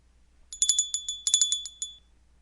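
A small bell rings rapidly in two quick bursts of bright, clear chimes, close and alone against a quiet background.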